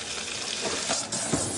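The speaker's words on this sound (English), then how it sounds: "people could light their water on fire" Tap water set alight by gas seeping in from nearby drilling: a steady broadband rushing hiss, like a flame flaring, with a few brief surges and a soft low thump near the end. No voices.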